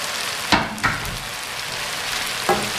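Okra, about 300 grams, fries with cooked masala in a pan for garlic bhindi, making a steady hissing sizzle marked by three brief scraping stirs.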